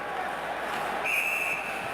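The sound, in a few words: referee whistle stopping play in NHL hockey game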